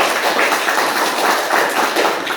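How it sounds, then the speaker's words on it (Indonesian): A classroom of students claps together in brisk, dense applause that stays loud and steady for a couple of seconds. "Tepuk tangan."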